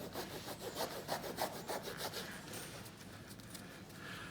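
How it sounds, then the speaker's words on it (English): The edge of a rasp files the cast heels of a horse's hoof, giving quiet, close rhythmic scraping strokes that soften and settle into a faint rasping texture. "And the other one is with the edge of your rasp."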